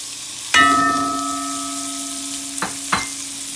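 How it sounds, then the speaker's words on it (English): Green onions, bell peppers and onion sauté in hot oil for a turkey neck curry, a steady sizzle opened by one loud ringing clank of the pan and followed later by two lighter knocks, with no talking. "I'm going to saute this in the oil."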